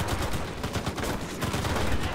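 Gunfire crackles in the World War II shooter game Enlisted, dense bursts of shots and rattling automatic fire overlapping continuously, near and loud.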